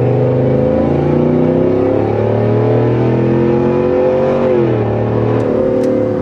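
A 2022 Cadillac Escalade Sport's 6.2 V8 with a Corsa exhaust, heard from inside the cabin as a loud, steady low rumble that rises and eases in pitch, with no talking.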